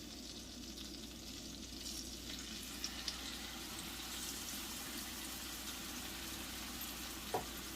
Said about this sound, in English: Now I'm going to place it inside of this pan.